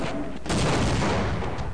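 Gunfire in the first-person shooter Half-Life: a loud, dense burst of explosive shots and booms that fills the short moment, close and harsh.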